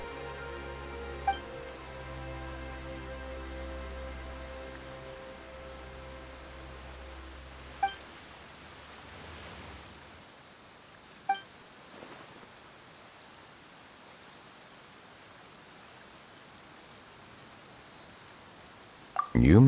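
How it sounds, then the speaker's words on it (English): Rain falls steadily in the video game Genshin Impact, a soft continuous hiss that remains after a musical passage fades, with a few sharp clicks scattered through it. "Why is it raining all of a sudden?"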